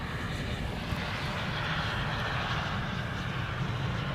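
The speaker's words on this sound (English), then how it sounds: "the A350 is getting too close by" An Airbus A350 airliner passing close by, its jet engines giving a loud, sustained roar that stays steady across the clip with no voices.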